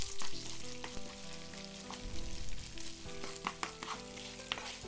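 Gochujang being stirred with two spoonfuls of olive oil: a spoon scrapes and mixes a thick paste in a bowl, with steady wet scraping strokes and faint sizzle, close and moderately loud, no talking.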